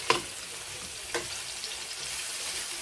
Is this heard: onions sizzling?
yes